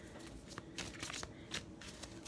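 Romance Angels oracle cards being shuffled by hand, a soft papery riffle with several quick flicks and brushes, close and quiet, with no talking.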